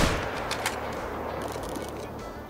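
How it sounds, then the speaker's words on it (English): Hunting rifle fired at a raccoon in the Call of the Wild hunting game, Mississippi Acres reserve: a brief shot burst near the start sits within a steady wash of broadband ambient game noise that runs throughout. "All right, so let's take a shot."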